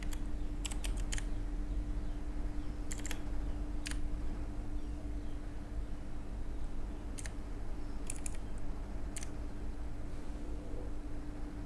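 Someone types on a computer keyboard in scattered clusters of quick, close keystrokes, with pauses between them, over a steady background hum.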